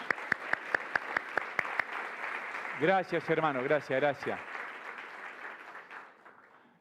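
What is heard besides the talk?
church congregation applauding in welcome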